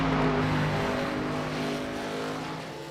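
ARCA race car number 12 on a qualifying run at Bristol, its engine a strong, steady tonal roar that eases slightly in loudness as it goes on, with no voices over it.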